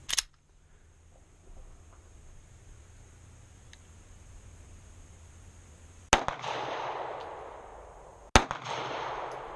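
Sharp gunshots from a Smith & Wesson Shield pistol crack out three times, loud and widely spaced, each followed by a lingering outdoor echo and hiss.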